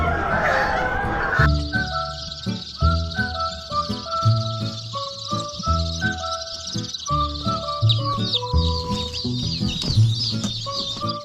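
Newly bought birds in a fresh homing pigeon loft coo and cluck in short repeated calls, close and clear, with rustling and faint chirping behind.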